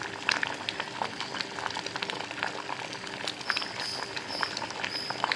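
Tiffin sambar bubbles in a pan on the stove, a dense run of small pops and sizzling crackles that goes on steadily with no voices.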